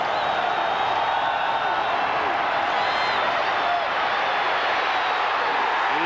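A stadium crowd at a 1996 Auburn vs Ole Miss college football game, a loud continuous roar that holds level throughout with faint whistles and cheers rising out of it.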